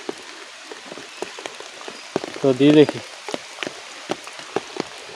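Rain patters steadily on the ground during village hook fishing, with scattered close drops tapping, while someone briefly speaks midway.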